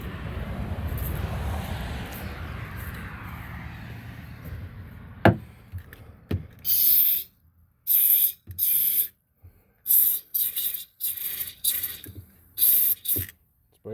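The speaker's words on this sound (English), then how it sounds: "spray some fogging oil in there" Several short hissing bursts of aerosol fogging oil spray, close and loud, separated by brief pauses, following a low rumbling background and a couple of sharp clicks, while winterizing a Sea-Doo engine.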